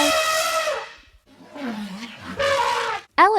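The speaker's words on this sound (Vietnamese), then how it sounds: "Elephant." An elephant trumpets in several harsh, tonal bursts separated by short pauses, loud and close, ending with a sharp rising squeal.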